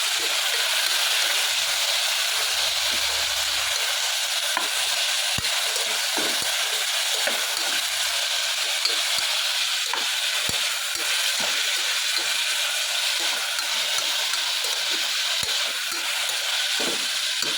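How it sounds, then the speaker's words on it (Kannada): Ingredients for a gravy fry in oil with a constant loud hiss. Soft knocks and stirring clicks are scattered through it, and it runs on steadily with no talking. "ಈಗ ಇದನ್ನು ಚೆನ್ನಾಗಿ ಎಣ್ಣೆಯಲ್ಲಿ ಫ್ರೈ ಮಾಡ್ಕೊಳ್ಳೋಣ."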